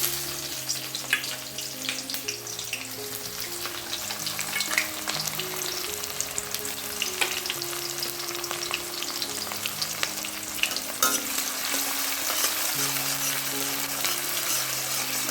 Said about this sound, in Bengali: পেঁয়াজটা দিয়ে অল্প একটু নাড়াচাড়া করব।